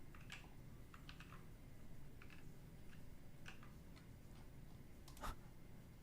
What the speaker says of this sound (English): I need to stop typing in chat.